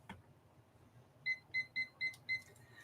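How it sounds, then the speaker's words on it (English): A 5-minute kitchen-style timer sounds five quick, evenly spaced high electronic beeps over a quiet room, faint and clear with no voices. "This is a timer I set for 5 minutes."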